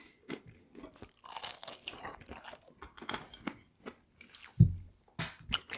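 Crispy air-fried chicken nuggets crunch under repeated close bites, with several sharp crackling chews spaced irregularly and a louder bite near the end, no talking.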